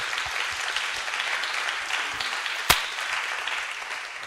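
An audience claps through a round of applause after a live conversation event with Ai Weiwei, steady and moderately loud, with one sharp knock or thump partway through.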